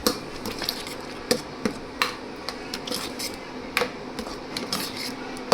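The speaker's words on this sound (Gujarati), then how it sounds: "હવે આપણે એને હલાવી નાખીએ." Spoon clinking and scraping against a pan while tomato chilli chutney with sugar is stirred, giving irregular sharp metallic taps and scrapes over a faint background, with no talking.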